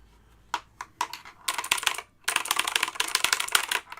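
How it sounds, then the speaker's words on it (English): Clicky mechanical keys tapped a few times slowly, then a fast, continuous run of crisp typing close up on an Eagle Tech wired mechanical keyboard. "It's an Eagle Tech wired mechanical keyboard."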